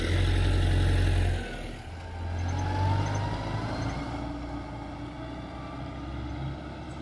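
A farm machine engine on a Japanese farm field runs loudly up close, drops off, then revs back up to a steady rumbling idle, heard alone without talk.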